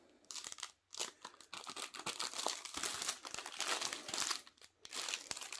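Crinkling plastic packaging on a new compact Razer Huntsman Mini keyboard, a close, quiet series of irregular crackles and rustles that come in bursts with brief pauses, no talking.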